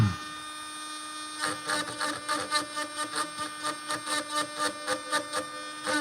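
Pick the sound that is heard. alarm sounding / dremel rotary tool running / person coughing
dremel rotary tool running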